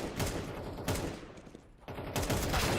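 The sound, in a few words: AK rifle gunfire in a video game deathmatch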